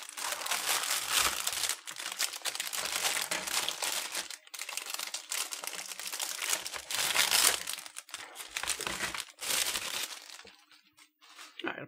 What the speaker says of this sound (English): Apologies for the loud rustling noises.